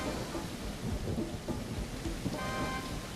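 Rain pours steadily in the video game Tex Murphy: Killing Moon, falling onto a city street with puddles, a dense close hiss with low rumbling thunder underneath and no talking.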